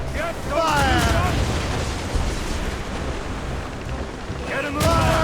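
Ship cannons firing in Assassin's Creed Rogue, heavy booming blasts and rumbling over a dense battle din, with voices shouting at the start and end.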